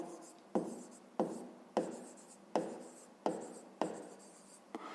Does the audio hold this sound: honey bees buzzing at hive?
no